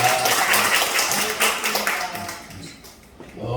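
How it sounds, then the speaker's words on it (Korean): A church congregation claps to welcome a newly registered member during a Sunday service, a dense burst of hand claps that thins and fades toward the end, with some voices mixed in. "잠깐 일어서 박수 한번 치겠습니다"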